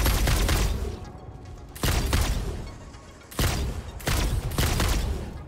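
Bursts of gunfire from homing ammunition in the video game Satisfactory: four loud, dense volleys of rapid shots separated by brief lulls, close and alone.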